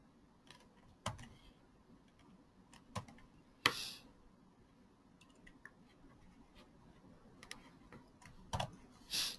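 Quiet, sparse keystrokes on a computer keyboard while a username and password are entered, with irregular clicks and gaps and one sharper tap partway through.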